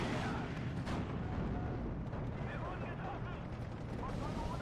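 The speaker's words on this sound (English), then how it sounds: "We are actually shooting that ISU-152 in the ass with the Panzer IV here," A Panzer IV tank cannon fires in the Steel Division 2 WWII strategy game, with one sharp report near the start rising out of a dense, continuous rumble of battle noise.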